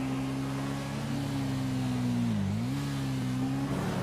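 A car in the video game GTA 5 driving fast toward a factory, its engine holding a steady loud drone with a brief dip and rise in pitch midway, like a quick shift or throttle change, heard alone.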